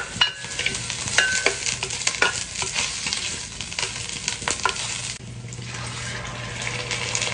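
Sardines go into vegetables frying in a pan with a loud, continuous sizzle and crackle, mixed with stirring clatter and a splash of water toward the end.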